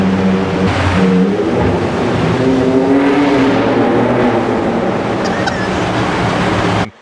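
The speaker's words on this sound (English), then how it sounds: "we needed to try and get that raspiness into the exhaust system" Ford Ranger Raptor with a custom-built exhaust system, a loud, continuous raspy engine drone held steady for several seconds before cutting off abruptly.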